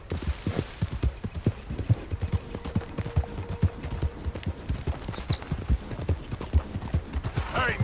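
Horse hooves gallop in a video game with rapid, evenly spaced clip-clop hits and a brief whinny near the end, loud and close, while distant gunfire-like cracks sound in the background.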